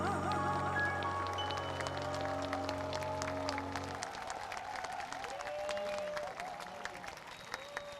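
Audience applause for a singer at an outdoor public square ceremony, a steady crowd clapping that carries on throughout while music fades out early and faint announcer-like tones linger above.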